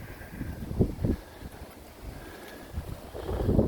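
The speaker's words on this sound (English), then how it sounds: "Since taking this greenhouse down, it's become a wind tunnel here." Wind gusts across an open allotment where a greenhouse has been taken down, producing a broad, steady rushing buffet that swells toward the end, with no talk.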